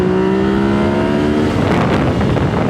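A Yamaha MT-09 with a full Two Brothers exhaust system accelerating from low revs, a loud deep engine drone swelling into rough, surging roar up close.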